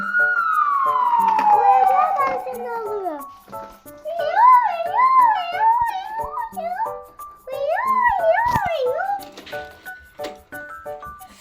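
A toy police car's siren wails in looping rising and falling tones at a toy car wash set, fairly loud and close, while someone talks over it.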